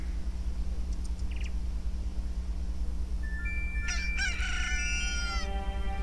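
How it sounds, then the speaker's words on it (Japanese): A rooster crows at dawn in Majora's Mask 3D, a bright, rising cock-a-doodle-doo heard clearly over a steady low game ambience and soft chiming tones. "コケコッコーじゃねえんだよ"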